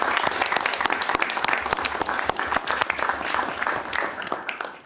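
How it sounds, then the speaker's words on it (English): Applause in a state House public safety finance and policy committee hearing room, steady dense clapping from the members and attendees for the committee pages, lasting throughout with no speech. "If we could let's give them a round of applause for everything they've done."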